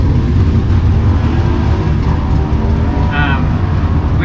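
A Super Twins drag racer makes a run at Benaraby Dragway, a dense, sustained engine roar filling the whole stretch at steady loudness, with a brief higher-pitched whine near the end.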